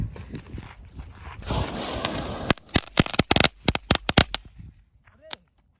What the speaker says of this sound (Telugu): గ్యాస్ ఉన్న 10 బాంబుల్లో ఇప్పుడు మనం ఒకటైతే ఫైర్ చేయబోతున్నాము